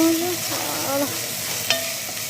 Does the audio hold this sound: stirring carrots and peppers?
yes